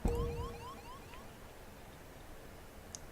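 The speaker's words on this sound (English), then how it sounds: "That was a weird bong and alarm noise." Sudden bong followed by a rising, repeating electronic alarm in the video game FTL, loud at first and then fading into quiet hiss with a brief chirp near the end.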